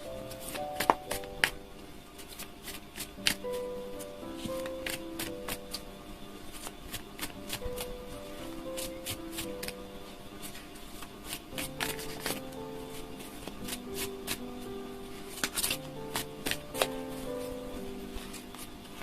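A deck of tarot cards is shuffled by hand, with repeated crisp riffling clicks and flicks in irregular bursts, close up, over soft background music with gentle melodic tones.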